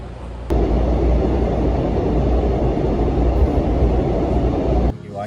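Inside a Korean traditional-music wine tourist train in motion: a heavy, steady low rumble that starts suddenly, holds evenly for about four seconds and then cuts away.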